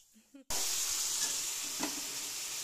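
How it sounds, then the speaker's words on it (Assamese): Pumpkin and tomato fry in a hot pan with a steady, dense sizzle that starts abruptly and continues loud and close, with a brief stir partway through. "এইফালে মাছৰ কাৰণে কোমোৰা বিলাহী এইফালে ভাজি আছোঁ"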